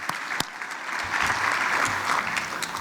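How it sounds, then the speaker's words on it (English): Audience at a homelessness conference's morning plenary session applauding a speaker: a dense, steady wash of clapping from many hands, rising after a few scattered early claps and holding evenly to the end. "So let's give Sean a big round of applause"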